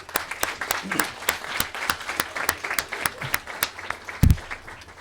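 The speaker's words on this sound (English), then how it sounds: "So give yourself a round of applause." Modest applause from the audience at a JROTC military ball and dining out, with clearly separated claps in an uneven rhythm, a brief bump partway through and a few faint voices mixed in.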